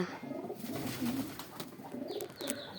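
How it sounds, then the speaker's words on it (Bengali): Domestic pigeons in a loft give soft, throaty coos in a few rolling phrases, with occasional light rustling. The calls are near but fairly quiet over low background noise, and no one speaks. "চাচ্চুর কবুতরগুলো ভালো"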